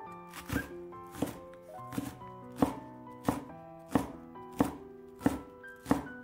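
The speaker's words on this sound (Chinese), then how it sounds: "半截大葱给它切碎" Half a scallion is chopped with a knife on a board, about ten evenly spaced crisp thuds falling in a steady rhythm, close and clear with nothing else behind them.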